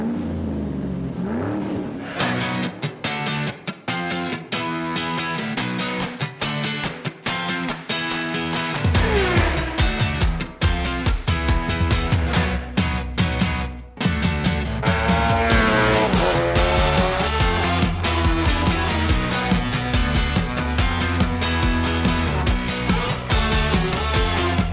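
Several race car engines rev loudly and continuously at a motor racing event, the roar thickening and growing denser after about nine seconds, with rising and falling pitch sweeps near the end.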